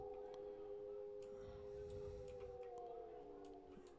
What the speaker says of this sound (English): I hear more howls